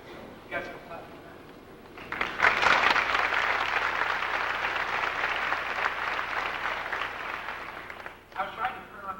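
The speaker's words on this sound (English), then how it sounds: "So you guys go clap." A high school graduation crowd breaks into loud, dense clapping that swells and holds for several seconds, then fades. Brief speech can be heard before and after the applause.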